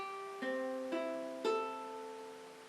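Three ukulele strings plucked one after another at steady intervals on a freshly tuned instrument, each note clear and ringing with bright overtones, decaying slowly into quiet room tone.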